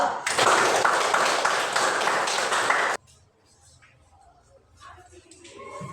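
Applause for a student group in a classroom: dense, steady clapping from many hands for about three seconds, then it stops abruptly, leaving a quiet room with faint shuffling.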